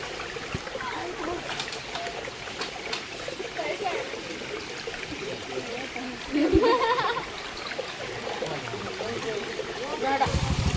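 Water runs and trickles steadily at a household tap in a Gujarati village home, a constant wash of flow under people talking.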